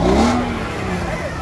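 A non-turbo inline-six 2JZ engine in a Toyota Supra Mk3 barn find runs close by, a rough, slightly clattery idle with a brief rev at the start settling into a steady hum.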